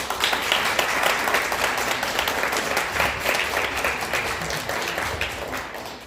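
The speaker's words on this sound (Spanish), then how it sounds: "Les pido un aplauso bien grandote para nuestro expositor." Sustained audience applause for a speaker at a talk on the history of Metepec, a dense, steady wash of clapping from a crowd that holds for several seconds and eases slightly at the end.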